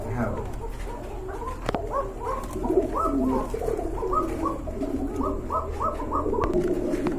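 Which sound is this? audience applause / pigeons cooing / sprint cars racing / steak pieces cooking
pigeons cooing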